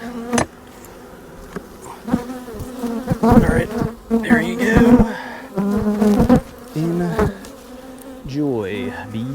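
Honeybees at a hive during late-winter feeding with pollen patties and fondant buzz loudly and continuously, close by, with sharp knocks against the hive box and a person speaking briefly.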